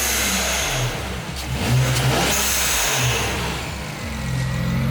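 A tuned BMW 335i engine revs repeatedly through its exhaust, heard from the front of the car, with several loud rising blips separated by short idle dips.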